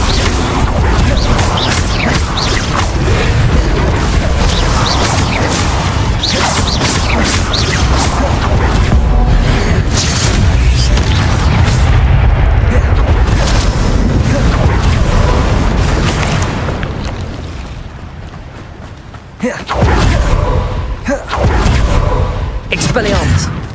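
Spell combat in Hogwarts Legacy: dense, loud booms and blasts rolling almost continuously, with a voice speaking over the action, then a brief lull before more explosive hits near the end.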